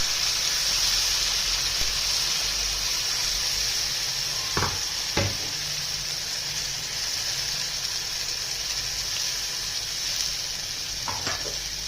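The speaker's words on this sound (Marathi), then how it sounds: "हे छान असं परतून घ्यायचं कारण आपण हे वाटलेलं वाटलेलं ना त्यामुळे असं कच्चापणा जाईपर्यंत चांगलं" Ground onion-tomato masala sautéing in hot oil in a pan for a fresh green chana curry, a steady close sizzle throughout with a few brief clinks of stirring.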